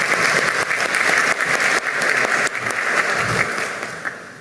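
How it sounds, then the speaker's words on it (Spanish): Sustained applause from an audience at a ceremony for the Day of the Defenders of Democracy, as a widow is called to the stage to receive an honour; steady, dense clapping that continues throughout and eases slightly toward the end. "Fuertes las palmas para la señora."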